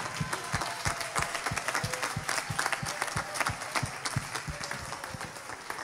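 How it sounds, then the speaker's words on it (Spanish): A concert crowd at a show claps in a steady rhythmic beat, fairly quiet and distant, with crowd noise underneath. "Vamos a dar un aplauso a esta gente"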